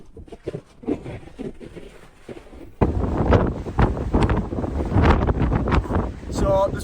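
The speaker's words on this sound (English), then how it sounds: "That crosswind is absolutely nuts." Strong crosswind on an exposed mountain ridge buffets the microphone of a mountain bike rider, starting as gusty rumbles and then becoming a loud, roaring blast of wind noise, with a voice talking faintly through it.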